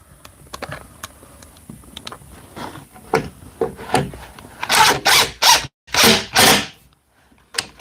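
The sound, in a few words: screws being driven into half-inch plywood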